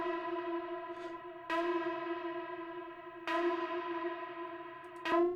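An Arturia MicroFreak synth with a Noise Engineering oscillator plays bright, buzzy sustained tones through reverb. Each note is retriggered about four times with a sharp attack and a long, echoing tail. No talk is heard.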